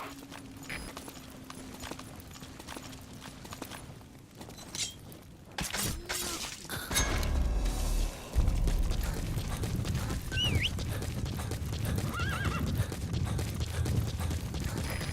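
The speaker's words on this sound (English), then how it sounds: "Planning to walk the whole wilderness on foot? Use your horse." Horse hooves clip-clopping at a gallop in Metal Gear Solid V: The Phantom Pain, a steady rhythmic beat that starts after a few mechanical clunks and a shattering crash, loud and close with no voices.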